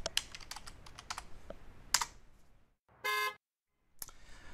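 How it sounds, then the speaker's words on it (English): A Tesla car horn, triggered remotely, gives one short honk after a burst of clicking computer-keyboard typing, with brief quiet gaps around it. "Let's see if we can honk the horn from an IBMI command line."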